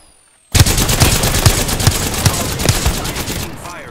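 Rapid automatic gunfire in Apex Legends starts abruptly and continues as a loud, even stream of shots with regular heavier thumps, then tapers off at the end.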